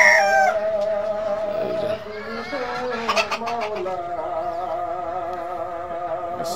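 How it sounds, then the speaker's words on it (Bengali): Fayoumi chickens crowing loudly and clucking close by, with a rooster's drawn-out crow at the start and overlapping bird calls continuing throughout. "ফাউমি মুরগি।"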